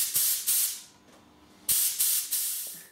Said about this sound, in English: I switched it off and released the air from the tank by opening the valve partially